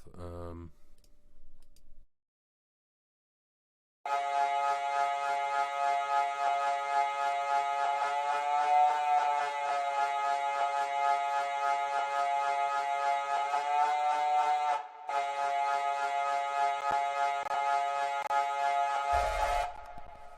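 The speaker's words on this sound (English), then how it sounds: "This Siren I was really pleased with." A synthesized siren in an electronic music track drones loudly and steadily with a rich harmonic tone, briefly interrupted before continuing, with a short click at the start and a thump at the end.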